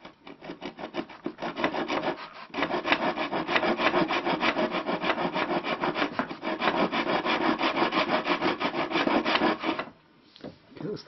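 A hand saw cuts wood for an Anglo-Saxon lyre in rapid, steady rasping strokes, close and continuous for about ten seconds before the cut finishes and the sound stops.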